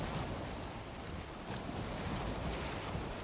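Choppy sea waves slosh and rush around a sailing ship in the video game Valheim, a steady, soft wash of surf with wind noise running through the whole stretch.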